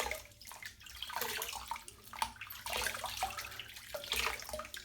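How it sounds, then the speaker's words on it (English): Water runs quietly from a tap while a face is wetted before shaving, with soft splashes and splatters coming in short irregular bursts close by, all fairly faint. "And then I'm just going to wet my face."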